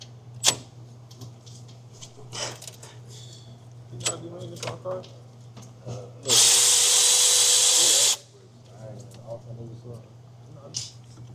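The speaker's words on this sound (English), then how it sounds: "But to make things faster, you could use a power tool." A power tool whirs loudly on bolts for about two seconds, close up, during alternator replacement on a 2019 Toyota RAV4, between clinks and handling noises of metal parts over a low background hum.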